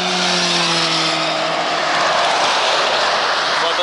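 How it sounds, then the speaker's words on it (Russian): Motorcycles pass on a busy highway, a loud engine drone with a whooshing pass-by heard from inside a moving vehicle. "Мотоциклисты."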